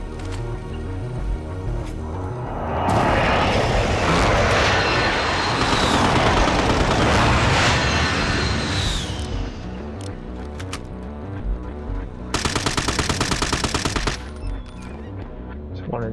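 Rapid automatic gunfire bursts loudly in a Call of Duty Warzone match on Rebirth Island in quads mode, with dense fusillades in the middle and a sharp machine-gun stutter near the end. Game sound effects are layered throughout.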